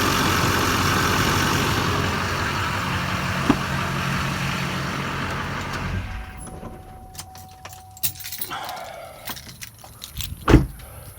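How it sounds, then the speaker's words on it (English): A truck engine idles steadily, then shuts off about six seconds in and its rumble stops abruptly; afterward come quiet clicks, rustling, and a brief whirring tone in near silence. "Let me shut the truck off."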